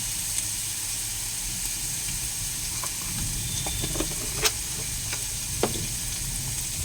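Vegetables fry in a pan with a steady close sizzle and hiss, broken by occasional sharp clicks and stirring knocks.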